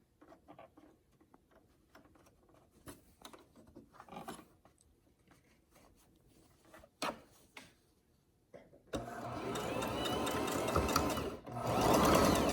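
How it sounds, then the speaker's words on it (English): A sewing machine stitches fabric for a face mask, first as scattered faint handling and short bursts, then a loud steady run of stitching near the end with a brief pause before it resumes. "you're just going to sew till the end again"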